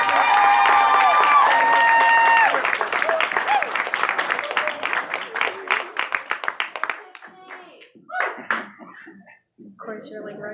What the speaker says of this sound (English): let's have a big round of applause for Tiffany Gerke.